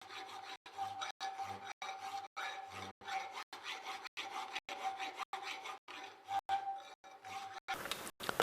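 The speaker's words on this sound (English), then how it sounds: "The filing removes any sharp edges and makes sure that the hinge plate is smooth." A hand file rasps across a blacksmith tong hinge plate to smooth it, about a dozen rhythmic back-and-forth strokes with short pauses between, close and clear, ending with a brief clatter.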